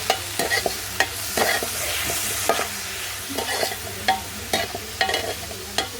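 A curry seasoned with salt and turmeric is stirred in a pot over a wood-fire stove, with repeated scraping strokes in an uneven rhythm over a soft background sizzle, close by and with no talking.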